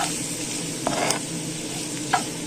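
Sweet pepper sizzles steadily in an oily pan while being fried for Ukrainian borscht, a close, constant crackle with a few brief scraping stirs of a utensil.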